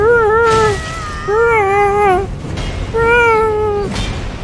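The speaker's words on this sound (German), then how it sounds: "Warum schreie ich dann wie eine Katze?" Player character in Elden Ring screaming like a cat, three loud, drawn-out meow-like wails with wavering pitch, each lasting about a second, separated by short pauses.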